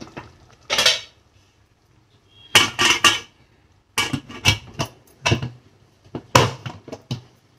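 A lid is set on a cooking pot of wheat-grit pongal after the stove is switched off, giving several separate, close metallic clanks and rattles with short silent gaps between them.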